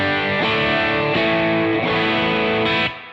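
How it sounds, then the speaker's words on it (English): A Telecaster electric guitar through a BADCAT Cub V tube amp with the cut control fully back plays four ringing chords in a steady rhythm, bright and slightly driven, loud and close, with the final chord cut short. "The cut control is all the way back, and the Telecaster sounds like this."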